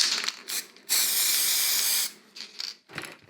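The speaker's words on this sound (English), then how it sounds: "So I blast with a layering spray or any other spray glue." Several short bursts of aerosol spray glue on model railway scenery, with one long steady hiss lasting about a second in the middle, close and fairly loud, with no talking.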